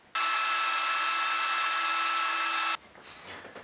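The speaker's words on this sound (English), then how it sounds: "I'm simply going to drill a hole and I'll be countersinking." A power drill whirs loudly at a steady high pitch for about two and a half seconds, boring a countersink hole into wood for an Adirondack-style chair, then stops abruptly, leaving faint handling noise.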